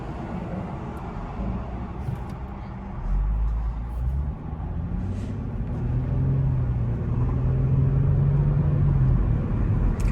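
A car engine idles in drive in the owner's newly bought car, a steady low rumble that rises and thickens partway through, heard close from inside the vehicle with a faint droning tone and no talking.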